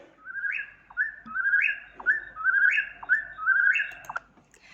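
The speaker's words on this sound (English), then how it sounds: "A little whippoorwill bird was singing his wake-up song." A whippoorwill sings close and clear, repeating its three-part whistled phrase in a steady rhythm with short pauses between calls.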